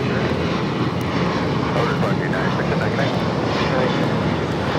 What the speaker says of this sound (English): This is United Airlines 679 taking off to Las Vegas on the 737-800.